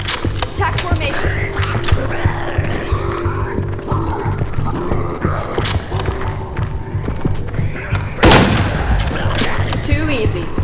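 Gunfire in the mission-based shooter game The Game of Annie: loud, busy bursts of shots and impacts mixed with clattering game effects and voices, with an especially sharp blast partway through.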